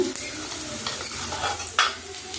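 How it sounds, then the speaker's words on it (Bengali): Softened onion frying with ginger paste in a pan gives a steady close sizzle, broken by a couple of quick scraping stirs, and nobody speaks. "এবার এই পেঁয়াজের মধ্যে একটু নরম করে নিয়েছি আদা বাটা"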